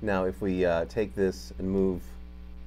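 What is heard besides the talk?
No everyday noises stand out.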